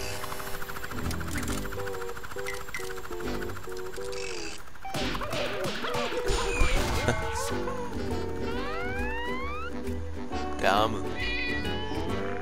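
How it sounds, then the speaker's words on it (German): Gary the snail from the SpongeBob Battle for Bikini Bottom video game meows repeatedly over game music, a series of rising and falling cat-like cries in the latter half. "Gary schnurrt"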